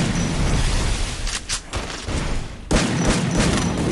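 M1014 shotgun fire in a video game: a dense, continuous barrage of loud shots with brief dips, then resuming.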